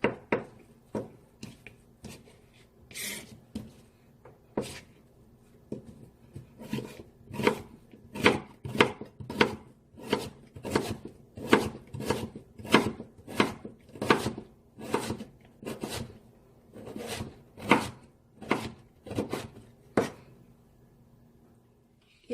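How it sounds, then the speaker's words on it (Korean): A knife cuts radish into thin julienne strips on a board, about thirty crisp, evenly paced chops close up, slow and sparse at first, then faster and regular. "무는 이렇게 얇게 채를 썰어 주겠어요"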